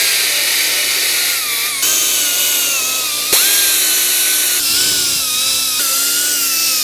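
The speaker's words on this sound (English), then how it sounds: "I'm gonna use this to sand it off. It's just a little Scotch-Brite pad" A small Scotch-Brite pad scrubbing a part from a Homelite 2500 179CC pressure washer pump gives a steady, close abrasive hiss, with a sustained whining tone running throughout and brief shifts in pitch.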